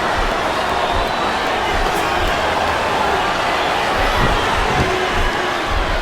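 Steady, dense roar of an arena crowd in the WWE SmackDown vs Raw 2007 wrestling game, a continuous wash of noise with a faint murmur of voices and no distinct peaks.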